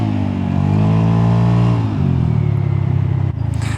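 A Vespa GTS 300 scooter engine revs up and holds a deep, throaty drone up close, then drops in pitch as the throttle eases, with a brief clunk near the end.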